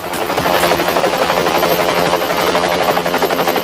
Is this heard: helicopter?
yes